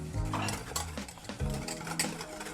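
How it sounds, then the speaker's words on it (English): A whisk scrapes and clinks steadily in a pan of thickening custard, rapid rhythmic metallic stirring up close with faint background hum. "you will start to feel the pull on your whisk as it starts to heat and thicken"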